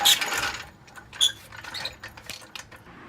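Jack being worked under a BMW E30 car, a series of faint close metallic clicks and ratcheting clacks in irregular bursts over a quiet background.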